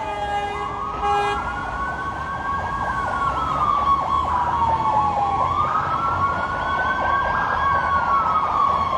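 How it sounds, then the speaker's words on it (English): An ambulance siren wails loudly and continuously, its pitch rising and falling in slow cycles as it passes, over steady road traffic noise. "I'm going to wait for these fire trucks to go by, if they're going to come by here"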